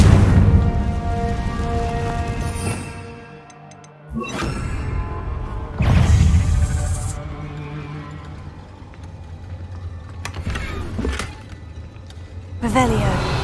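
Confringo explosion spell in the video game Hogwarts Legacy, with booming blasts and whooshing bursts repeating over several seconds, loud and close, mixed with game music and a voice calling out.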